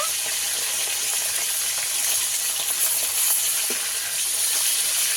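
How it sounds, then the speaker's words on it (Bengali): Steady, bright sizzling of fish frying in hot oil, close and continuous, with faint bubbling and no voices. "বাকি মাছগুলো একইভাবে ভেজে নেব।"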